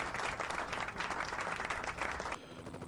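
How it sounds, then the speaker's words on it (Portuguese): Faint, steady applause from a group of people clapping, continuous for a couple of seconds before thinning out. "E uma salva de palmas para vocês."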